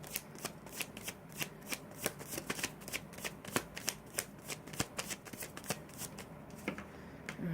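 Tarot cards are shuffled by hand in quick, repeated riffles and soft slaps, a steady rhythmic patter heard up close with no voices.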